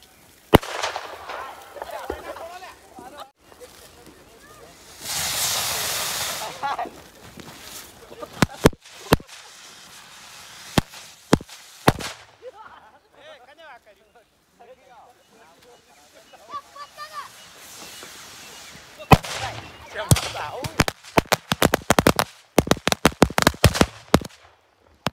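Diwali firecrackers go off in sharp, loud bangs, some single and some in rapid crackling bursts, near and farther off, with people talking and calling out between the blasts.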